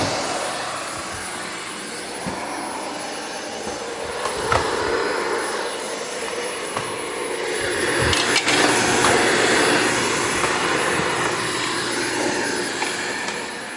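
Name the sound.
cordless vacuum cleaner running on hard floor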